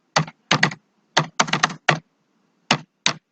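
Fast bursts of keystrokes on a computer keyboard while entering text into an Excel spreadsheet, close and crisp, in short clustered runs separated by brief pauses, no voices.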